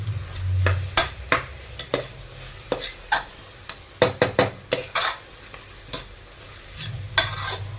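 Tomatoes and green chillies are stirred in a pressure cooker for pav bhaji, with repeated scraping and knocking strokes of a spoon against metal over a low sizzle, close and fairly loud, with no voices.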